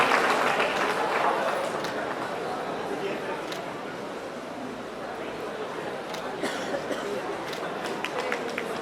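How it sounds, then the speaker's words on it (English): At a college youth festival, a crowd applauds for a priest who serves as finance officer, sustained dense clapping from many hands that is loudest at first and then settles, with voices talking over it. "एक huge round of applause for Father Krasta, our finance officer"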